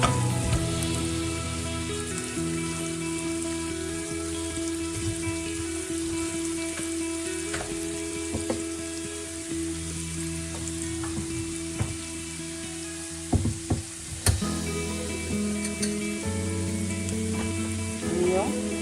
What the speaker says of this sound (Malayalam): ഈ എണ്ണയിൽ കിടന്ന് ഈ കാഷ്യൂനട്ട് ഉണക്കി ഒന്ന് നല്ലതായിട്ട് മൂത്ത് വരട്ടെ